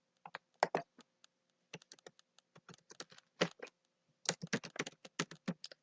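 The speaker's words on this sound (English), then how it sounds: "Simply enter the street number and name into the speed bar." A street address is typed on a computer keyboard, with close, crisp key clicks coming in irregular bursts and short pauses in a quiet room.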